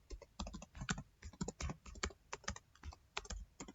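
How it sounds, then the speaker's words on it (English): Quiet, crisp keystrokes clatter on a computer keyboard as an email ID is typed, in an irregular run of taps with brief pauses, close and faint. "here I will type my email id."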